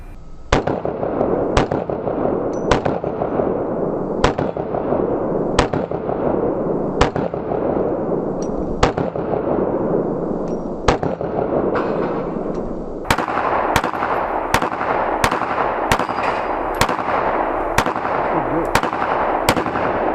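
A ported Glock pistol firing Winchester white box ammunition at an outdoor range, a string of sharp, loud shots spaced about a second apart, then a faster run of cracks over steady background noise.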